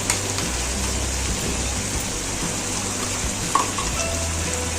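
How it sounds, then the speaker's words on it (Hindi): A spoon stirs chicken karahi frying in a pan, with a steady, close sizzle and faint scraping under the crackle, with no talk. "साथ साथ हम इसको चम्मच से ऐसे मिक्स भी करते जाएंगे।"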